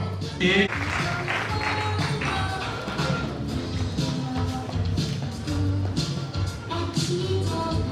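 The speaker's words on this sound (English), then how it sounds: "Please, a round of applause for Kayode Badeyan" An audience at a disability day celebration event applauds in a broad, sustained wash of clapping that stays fairly even throughout, with a low background hum and a few voices beneath it.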